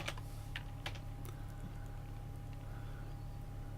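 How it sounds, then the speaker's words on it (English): Typing on a computer keyboard while writing code: a few quick, faint key clicks in short bursts over a steady low electrical hum. "That was some terrible typing."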